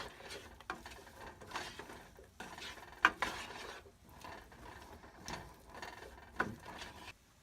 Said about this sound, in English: Just going to thicken it up a little bit and stir that around.